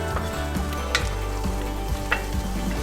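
Tomato paste from a tube sizzles and fries as it cooks down in a pan for a meat sauce, a steady close crackle broken by a few louder stirring scrapes.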